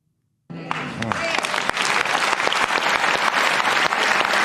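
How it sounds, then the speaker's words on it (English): Audience applause at a political forum with Oprah, bursting in abruptly after silence and then holding as loud, dense, continuous clapping from a large crowd. "But these people are clapping like seals, man."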